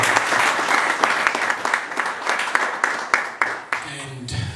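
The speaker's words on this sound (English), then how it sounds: "So please give round of applause for him." An audience at a medical education event applauds loudly and continuously for several seconds, the clapping thinning near the end as a voice begins to speak.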